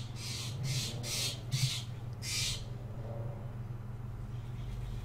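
A bird squawks in a Europa Universalis IV strategy game: five harsh, evenly spaced calls in quick succession, then quiet with a low steady background hum.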